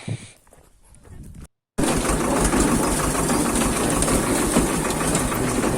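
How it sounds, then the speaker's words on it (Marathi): A farm tractor engine runs steadily with a loud, continuous rumbling chug after a brief quieter stretch and a moment of silence, heard up close with no talking over it. "आता घरी ट्रॅक्टर घेऊन आता घरी जायचे"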